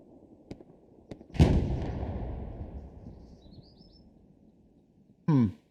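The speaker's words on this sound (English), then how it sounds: "we can already hear tank firing at something" A tank cannon in the video game Hell Let Loose fires once with a loud boom, and a long rumbling tail fades over several seconds. A shorter, sharper blast lands near the end.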